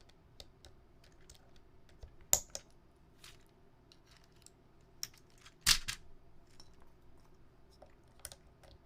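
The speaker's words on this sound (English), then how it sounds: "So it's like I have to use my finger on the back to push up these keycaps so I can place them on." Keycaps are pressed onto a bare Topre keyboard assembly with no domes or PCB, producing sparse, close plastic clicks and snaps, a few sharper pops standing out against quiet gaps.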